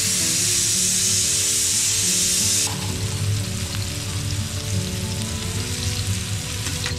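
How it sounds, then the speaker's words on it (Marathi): Kingfish and prawns coated in a batter of rice flour, Konkani masala, semolina and gram flour fry in hot oil with a loud, steady close sizzle. The hiss eases slightly partway through, and no one speaks. "ओके, आता मस्तपैकी आपली जरा सुरमई फ्राय करूया."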